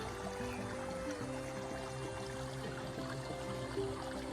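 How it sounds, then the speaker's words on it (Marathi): Calm water flows below a roadside railing in a steady, continuous rushing wash, heard close and even throughout with no voices. "पाण्याचा आवाज बघा, खूप शांत आहे आणि मस्त."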